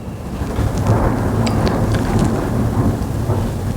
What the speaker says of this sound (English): do you guys hear the thunder out there?